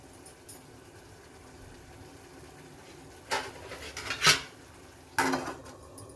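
A metal lid clanks onto a pot of garlic gojju cooking on the stove, with a few sharp rattling knocks in a quiet kitchen.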